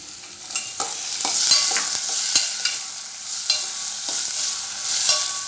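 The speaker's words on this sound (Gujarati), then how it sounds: "આ ડુંગળી સરસ તતળી ગઈ છે હવે એમાં આપણે કેપ્સિકમ અને ટામેટા નાખીશું" Capsicum and tomato go into browned onions frying for beetroot pulao, producing a bright continuous sizzle broken by repeated close clicks and scrapes of a spoon stirring the pan, with no talking.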